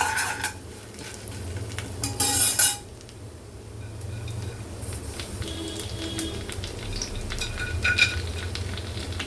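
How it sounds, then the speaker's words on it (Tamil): Black pepper and cumin fry in hot oil with a little chana dal in a pan, made for tapioca adai. A steady soft sizzle runs throughout, broken by a louder scraping stir early on and light clinks of a spoon. "மிளகு சீரகம் இது நல்லா பொரியணும்"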